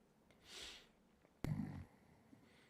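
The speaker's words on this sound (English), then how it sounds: "Wow, we got a snore." One loud, rough snore from a sleeping person bursts out in the middle of a quiet night-time room, lasting under half a second. Faint background hiss surrounds it and nobody speaks.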